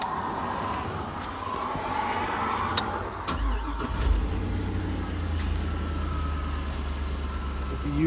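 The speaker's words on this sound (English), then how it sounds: "With the usual little exhaust leaks when you first fire it." A 1955 Buick Special engine catches and settles into a steady idle, the rumble carrying small exhaust leaks, heard close and fairly loud with no talk.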